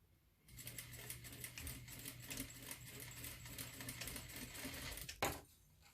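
A sewing machine runs in a steady continuous stitching burst while a button placket is sewn, a low motor hum under rapid needle clatter, stopping abruptly near the end with a sharp click.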